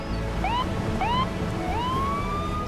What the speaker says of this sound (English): The ambulance coming off the barge with the lights and sirens